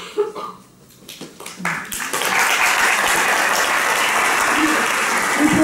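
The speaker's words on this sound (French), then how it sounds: "Vous pouvez applaudir là." At a talk on burnout, scattered claps swell into sustained, full applause from the audience, steady and fairly loud to the end.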